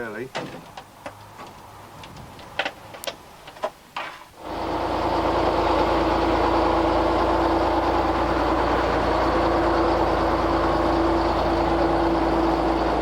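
A steam engine warming up and idling, with a few knocks and clicks first, then a sudden loud, steady hissing rumble with a constant low hum that carries on without pause.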